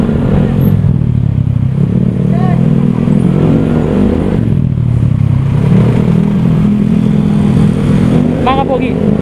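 A Honda Click scooter fitted with a new Akrapovic exhaust runs at a steady, loud, throaty idle with constant low rumble from close by, and faint voices can be heard beneath the engine.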